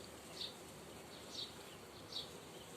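Honey bees in a swarm-strength hive make a quiet, continuous buzz, with a few brief, high chirps repeating over it.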